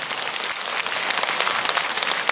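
Audience applause fills a lecture hall during a Catholic priest's happiness talk, a dense steady patter of many hands clapping throughout with no voices over it.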